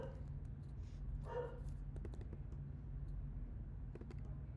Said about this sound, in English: Hold up, my dog's fucking barking.